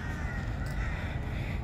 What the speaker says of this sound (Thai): ได้ยินเสียงอีกา